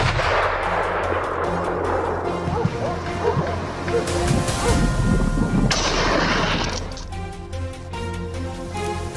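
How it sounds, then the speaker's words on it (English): Gunshots ring out during a wild boar hunt, several sharp reports in the open with dogs barking and yipping around them, while someone talks over the noise. "We chased and shot down a few more wild boars."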